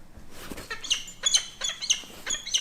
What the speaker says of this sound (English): What is that? A little bird up there?